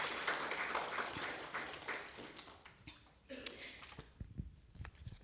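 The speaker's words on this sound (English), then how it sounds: "If I can have a round of applause to welcome our panelists." An audience applauds to welcome panelists at a Fiji economy dialogue panel discussion: a burst of dense, fairly loud clapping that thins out toward the end.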